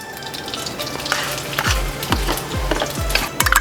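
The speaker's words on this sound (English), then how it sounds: "Let's add some fat, and that should melt and start sizzling right away." Fat melts and sizzles in a wok over high heat, a loud close hiss broken by a series of rhythmic scraping thuds as it is stirred.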